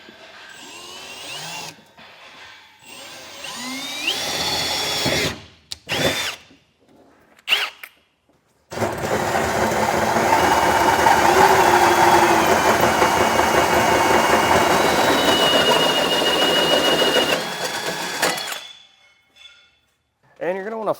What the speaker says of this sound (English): first I'm going to go through with a 1/4-inch drill bit, and then I'm going to go back with the hole saw